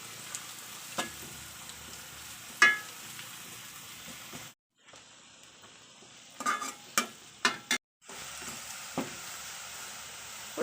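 Crushed garlic sizzles and fries in hot oil in a pan, a steady soft crackle with occasional stirring clinks and brief pauses.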